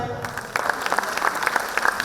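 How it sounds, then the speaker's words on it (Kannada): Audience clapping at the Guru Namana 2025 education awards ceremony in Karnataka: a steady, dense patter of many hands that swells after a brief quieter start and keeps going throughout. "ಚಪ್ಪಾಳೆ"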